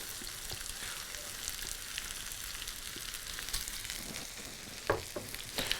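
Okonomiyaki batter sizzles steadily in a hot pan, a close, continuous frying hiss with a few light scrapes and taps near the end.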